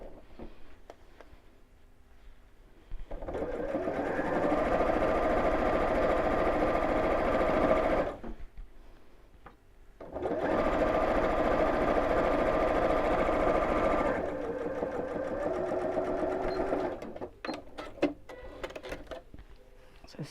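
A domestic sewing machine runs in two long, even bursts of rapid mechanical stitching through fabric, separated by a short pause, with light handling clicks and rustles between and after.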